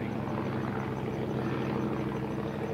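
A propeller airplane flies over the Old Rhinebeck Aerodrome airshow, its engine a steady, loud droning roar that holds evenly through the whole short stretch with no voices.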